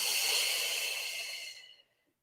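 A single long, breathy exhale during a yoga practice, close and soft, fading gradually to silence.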